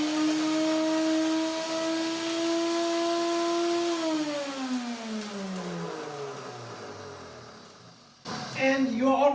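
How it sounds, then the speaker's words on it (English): Countertop blender grinding nuts into nut meal, a loud steady motor whine that slowly drops in pitch as it winds down over several seconds, then a brief clatter at the end. "Put the nuts, any kind of nuts, into the blender, any kind of blender,"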